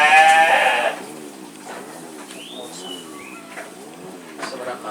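Sheep bleat loudly and close in a single drawn-out call at the start, followed by steady speech from people nearby.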